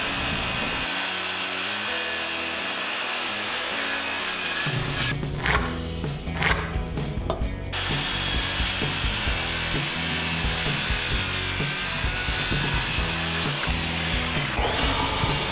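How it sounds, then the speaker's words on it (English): A circular saw rips through salvaged barn wood, a loud continuous whine with a brief dip midway before the cut resumes, no voices present. "cut it off with a circular saw"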